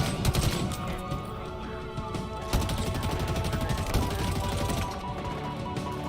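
Sustained rapid-fire shooting from multiple weapons in a video game, loud and continuous with a fresh volley kicking in midway and clattering repeats throughout, no talking.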